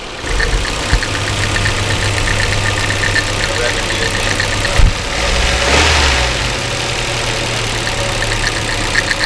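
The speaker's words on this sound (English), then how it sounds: "once it slows down, and it all kind of starts to rattle again" A Nissan 240SX engine idling with a rattling timing chain: a steady, close mechanical idle with a continuous fine rattle and one brief knock partway through.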